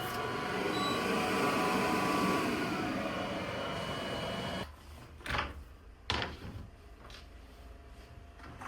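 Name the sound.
laser cutter cutting acrylic parts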